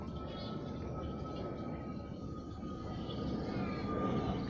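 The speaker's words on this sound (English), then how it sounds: "chúng ta nghe thấy tiếng máy bay" An airplane passes overhead near an airport in Sydney, a steady broad outdoor roar that swells slightly louder toward the end.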